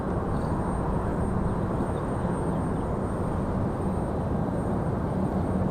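An Air Canada airliner departing Raleigh-Durham for Montreal produces a steady, even jet rumble with no talk, holding at a constant level throughout.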